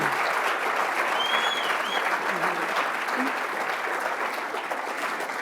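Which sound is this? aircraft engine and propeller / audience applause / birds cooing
audience applause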